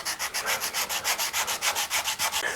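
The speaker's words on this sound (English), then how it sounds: "I'm making sure that the pressure while I'm sanding is on the very tip of the cutter" Rapid, even back-and-forth scraping of sandpaper on the metal cutter of a molding plane, about a dozen rhythmic strokes, close and loud with no talking.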